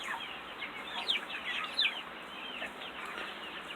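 Buffalo Orpington chickens clucking nearby, with a few sharp, brief calls standing out over soft, continuous murmuring from the flock.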